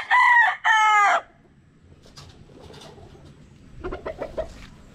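Kelso gamefowl rooster (Machine Kelso over Gilmore Hatch) crowing loudly twice in quick succession nearby, followed by quieter clucks and farmyard bird calls.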